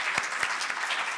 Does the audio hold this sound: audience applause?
yes